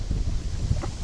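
Wind gusts buffet the microphone on a river beside a small fishing boat, a brief, dense rumble of blustery noise with no speech.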